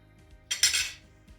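A metal pan is set down on a stove before oil is added for frying Manchurian, giving one sharp clanking contact followed by a brief metallic ring, close and with no voices.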